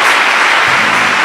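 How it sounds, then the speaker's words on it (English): A church congregation claps hands during a worship service, a dense, loud wash of applause with no individual claps standing out, brief and continuous. "Clap your hands to Jesus."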